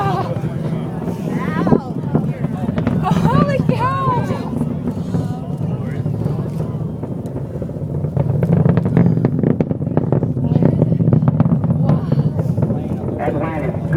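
Space Shuttle Atlantis launch on the final STS-135 mission: a steady, heavy low roar and rumble heard from a distance under excited shouting spectators.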